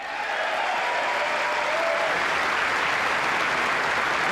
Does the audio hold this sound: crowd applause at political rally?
yes